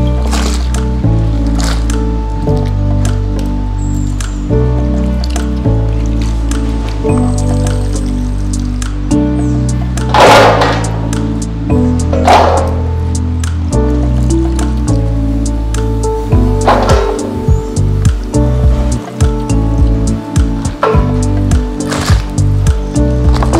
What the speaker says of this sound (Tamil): இப்ப நம்ம எடுத்து வச்சிருக்கிற வெண்டைக்காய் எல்லாமே தண்ணியில போட்டு நல்லா கழுவி எடுத்துட்டு கட் பண்ணிக்கலாம்.